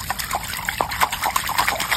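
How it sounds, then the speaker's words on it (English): River water splashed by hand in Australian crocodile country, a run of quick, close sloshing splashes with no talk. "all I need to do is splash"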